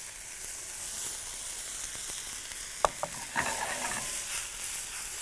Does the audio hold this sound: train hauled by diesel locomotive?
no